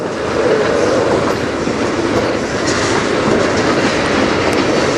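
A freight train passes close by on the Strathroy Subdivision, a loud steady roar of rolling cars with rhythmic wheel clatter and no voices.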